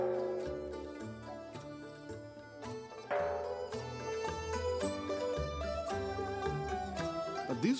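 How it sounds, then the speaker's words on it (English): Ancient Chinese bells struck with a stick ring out with a gong-like, sustained metallic tone during a Chinese New Year setting at Nan Hua Temple, strikes overlapping in a dense, resonant wash with a stronger hit about midway. "It's the sound of a traditional Chinese gong."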